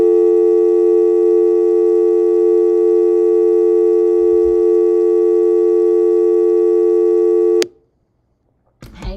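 A telephone busy signal pulses loud and steady for about seven and a half seconds, then cuts off abruptly, leaving near silence with a faint click at the end.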